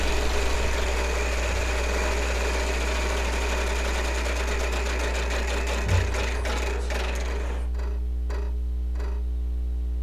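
A game show prize wheel spins with rapid clicking that gradually slows and spaces out until it stops, over a steady low hum.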